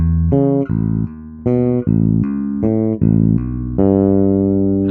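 A bass guitar slowly plays a minor 6th shape pattern low on the neck, with a run of clean, separate notes of about one every half second. The tone is loud and close.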